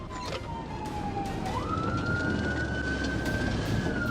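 Police car siren wailing during a high-speed pursuit, a single close, loud sweeping tone that dips then rises and holds, over road and engine noise; no talk.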